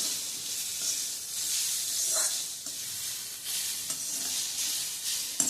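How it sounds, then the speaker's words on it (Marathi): Pieces of elephant foot yam (suran) sauté in a pan with a continuous bright sizzle and hiss, broken by a few soft stirring scrapes. "सुरण असं छान परतून घ्यायचं"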